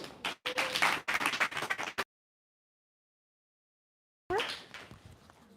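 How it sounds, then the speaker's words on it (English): An audience at a live animal advocacy forum claps in short bursts, then goes silent for a couple of seconds before the clapping picks up again, moderately close. "So give a round of applause for Nikki Wagner."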